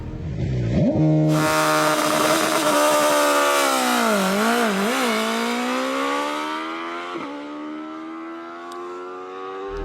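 BMW S1000RR sport motorcycle launching hard under launch control, a loud close engine held at high revs and then screaming up through rising pitch with gear changes, alone without talk.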